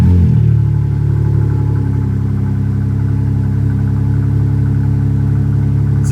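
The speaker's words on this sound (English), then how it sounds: "let's get a quick cold start while the car is still completely stopped" A BMW G80 M3 engine idles steadily after a cold start while the car is stopped, with a deep, even rumble and no revving, loud and close throughout.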